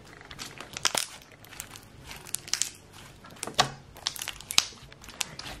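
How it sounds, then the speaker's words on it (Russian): Slime being squeezed and worked by hand gives off scattered crisp clicks and crinkly pops, close and fairly quiet, arriving in irregular bursts with no talking. "Очень классно кликает."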